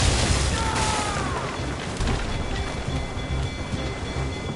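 Cannon fire from ships in a naval battle in Assassin's Creed Rogue Remastered, heavy booms rolling over rain and storm noise with constant low rumble, loud and close.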